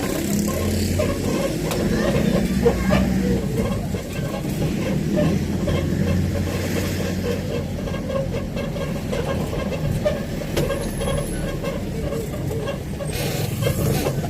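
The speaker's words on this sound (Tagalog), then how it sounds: "Ingay ng sakyan na to." Steady traffic rumble on a rainy Manila street lined with parked vehicles, a continuous low engine drone from a nearby vehicle with no clear passes or breaks.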